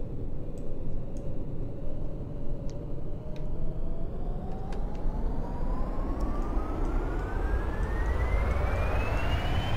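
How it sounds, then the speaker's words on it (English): Giant plane falling in the video game X-Plane 11, a steady loud engine roar whose pitch climbs slowly throughout, with faint clicking on top and no talk. "how long does it take this giant plane to just fall to the ground?"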